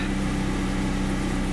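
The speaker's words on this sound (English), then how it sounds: "Idling at pretty high revs, but I think it's because of the cold engine." A cold BMW E36 engine idles at fairly high revs, a steady, dense hum and rumble that is loud and continuous with no voices.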